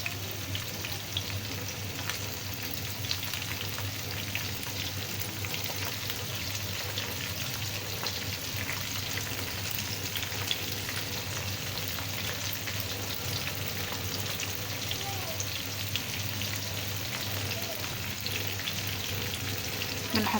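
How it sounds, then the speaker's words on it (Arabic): Chicken pieces fry in hot oil, a dense, even sizzle that stays steady and close for the whole stretch without any clear talk over it. "بنحطها في الزيت وهو سخن،"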